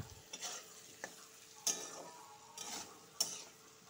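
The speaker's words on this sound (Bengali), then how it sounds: "ভালো করে ভেজে নিব" Potatoes and tomato coated in ground cumin and coriander fry quietly in a pan while a spoon stirs them, producing soft scraping strokes and a few sharp clinks against the pan, close and fairly faint without speech.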